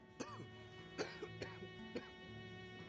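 A person coughs about four times in separate short bursts, close to the microphone, with quiet room tone and a faint steady hum underneath.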